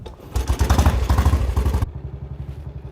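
A vintage motorcycle single catches and idles after a flooded-carburettor, valve-lifter kick start, giving a close, loud, rapid thumping exhaust beat for about a second and a half before the revs drop back to a softer idle.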